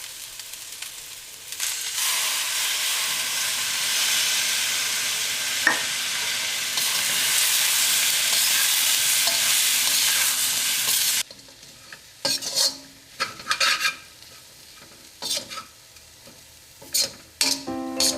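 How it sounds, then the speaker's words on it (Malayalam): Beef stir-fried in a pan with chilli sauce: a loud, steady sizzle fills the first stretch, then gives way to irregular scraping and stirring strokes against the pan with quieter frying between them. "ഇനി നമുക്കിതിലേക്ക് ചില്ലി സോസ് ചേർക്കാം"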